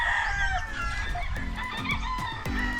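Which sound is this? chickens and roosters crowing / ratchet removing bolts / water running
chickens and roosters crowing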